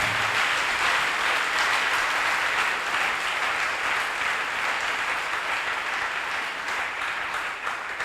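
Sustained applause from a church congregation at a French-English praise service, dense steady clapping filling the room for the whole stretch with no voices on top.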